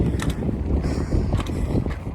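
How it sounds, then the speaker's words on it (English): Gusty mountain wind on a trail to Glacier Lake in Oregon's Wallowas buffets the microphone, producing a constant low roar with irregular thumps and bursts. "It's quite breezy up here, so we're sorry if the audio is not the best."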